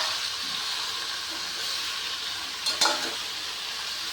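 A salt and chili mixture sizzles and hisses steadily in a frying pan, with a brief scrape of stirring near the end rising over the constant fry.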